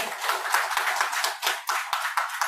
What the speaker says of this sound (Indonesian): Ya, tepuk tangannya dong.